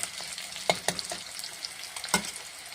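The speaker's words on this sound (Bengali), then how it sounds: "পেঁয়াজটা ভেজে নিচ্ছি আগে" Onion sizzles in a hot pan, a soft steady crackle broken by a few sharp clicks and scrapes as the pieces are stirred.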